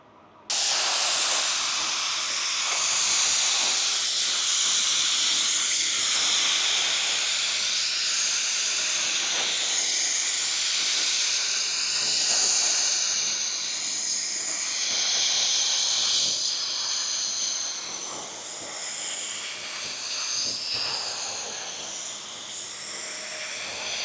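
A Porphis PRD 815 spray gun lays a base coat onto a car fender, giving a steady, loud, close hiss of atomized paint that runs almost without a break, with small shifts in strength as the gun sweeps across the panel.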